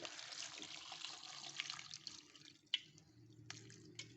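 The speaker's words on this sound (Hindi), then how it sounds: "और अब हम इसमें इतना पानी डालेंगे कि ये जो है ना अमरूद डिप हो जाए।" Water is poured into a pot of chopped guavas as guava jam is being made, with a soft, faint trickle and splashing, plus a few sharper drip-like plinks near the end.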